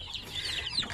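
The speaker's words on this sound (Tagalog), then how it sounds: "napakasigla ng ating mga sisiw, mga native chicken yan" Native chicken chicks in a brooder give a lively, continuous stream of high-pitched cheeping, several birds overlapping, close and moderately loud.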